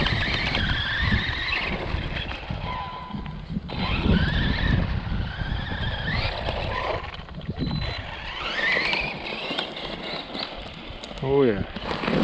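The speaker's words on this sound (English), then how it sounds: "I'm just going to drive it until it's completely dead" An Arrma Krayon 4s hybrid RC car with a wrecked rear differential runs continuously at close range, its motor whining and tires scrabbling, with a brief squeal near the end and a person speaking over it.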